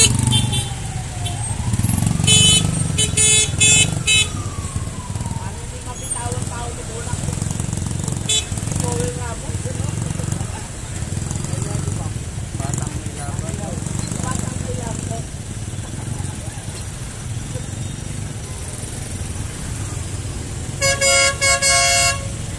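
Busy street traffic with cars and motorcycles rumbling past, a rising engine whine early on, and bursts of horn honking near the start and end, loud and continuous throughout.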